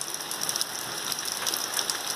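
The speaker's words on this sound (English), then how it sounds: "Raining like cats and dogs." Heavy rain falls steadily in Augusta, Georgia, a dense, even hiss of drops pattering on surfaces close by, with no voices.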